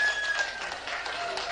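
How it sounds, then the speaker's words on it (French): Crowd applauding at a carnival costume parade, dense continuous clapping from many hands, steady and fairly loud throughout with no clear talk over it. "Enfin, on peut l'applaudir très fort"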